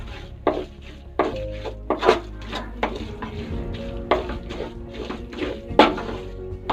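Chili powder stirred into a chopped egg mixture for an egg roast: a spoon scrapes and taps against the bowl in an uneven rhythm of soft clinks and scrapes, close and moderately loud.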